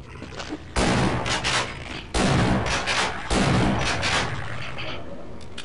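Three loud, booming shotgun blasts from the video game Half-Life: Blue Shift, spaced roughly a second apart, each with a long rumbling tail that fades into steady game background noise.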